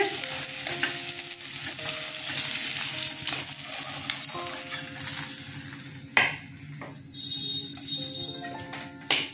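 Pieces of rohu fish frying in mustard oil give a steady close sizzle, with a few sharp clatters of utensils and faint tonal hum underneath.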